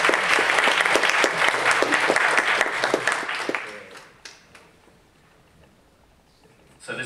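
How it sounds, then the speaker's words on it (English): An audience applauds two proud teacher's students at a logging and statistics talk, a dense loud patter of many hands for about three and a half seconds before fading into quiet room tone, with a faint sound returning at the very end. "So I think they deserve a round of applause."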